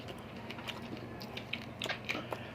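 Crunchy fried dried milkfish head (daing bangus) being bitten and chewed up close, with irregular crisp crackles and snaps that grow sharper toward the end, heard alone without talk.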